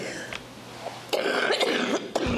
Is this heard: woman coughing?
yes